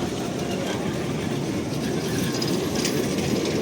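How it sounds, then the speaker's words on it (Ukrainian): A tram rolls past in Lviv's busy city centre at night with a continuous loud rumble and clatter of wheels on rails, and crowd noise and voices underneath. "и знов трамвайчик"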